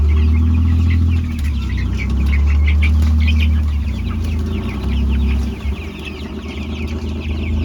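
Chickens being shooed into a range coop on pasture cluck and squawk in a busy, continuous flock chorus over a steady low rumble. The clucks are near and fairly loud throughout.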